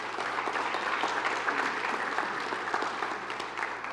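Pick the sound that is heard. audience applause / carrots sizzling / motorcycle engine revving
audience applause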